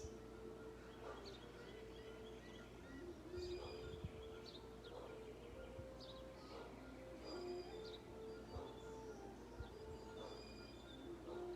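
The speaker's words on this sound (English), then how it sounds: "The sounds of the birds." Birds call and chirp in a jungle-like setting during a slow yoga session, with scattered short tweets and whistles over a steady background hum, moderately distant and fairly quiet throughout.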